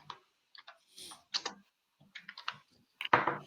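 Sparse clicks of computer keyboard keys typing a search, a few short taps in small clusters with gaps, quiet and close, ending in a louder clack.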